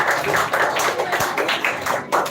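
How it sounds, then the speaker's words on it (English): A crowd of students at a school children's literature festival claps in a steady, dense patter. The applause is close and fairly loud and continues throughout. "Louder claps, students."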